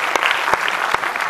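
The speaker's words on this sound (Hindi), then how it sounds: "आपकी तालियां कुछ कम है, अगले बंद में ज्यादा बजाइएगा" Audience applause at a Hindi poetry recital of a Vande Mataram song, a steady dense clapping with a few sharper claps standing out, moderately loud and close, with no talk over it.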